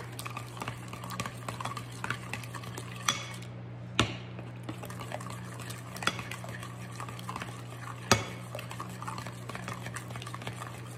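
Sourdough starter is stirred into pumpkin bread dough in a bowl, with soft wet mixing, periodic clicks and knocks of a utensil against the bowl, and a steady low hum in the background, no talk.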